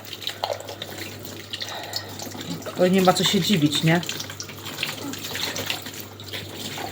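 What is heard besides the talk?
water running from a repaired faucet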